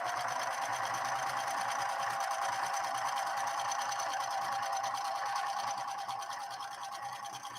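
A Singer 6212C sewing machine with a 0.75 amp motor runs fast while stitching a 3-point zigzag, giving a steady, loud, rapid mechanical whirring and ticking that eases slightly at the end.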